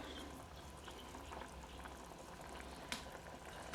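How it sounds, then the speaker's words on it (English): A pot simmers uncovered on a camping stove, a faint steady bubbling hiss with a small clink near the end. "See if I can get it to a simmer."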